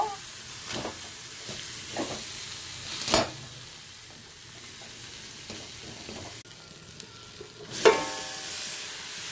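Fish head frying in spiced masala in a pan, giving a steady close sizzle with scraping stirs and a few louder spitting bursts.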